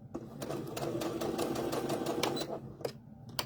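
A sewing machine back stitches fabric for a wrist key holder or pot holder, a steady rapid mechanical whir running continuously and close, then briefly pausing near the end before restarting.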